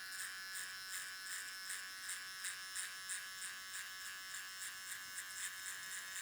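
Electric hair trimmers buzz steadily while cutting a fade, a close, continuous hum that pulses faintly as the blade moves back and forth through the hair, with no talking.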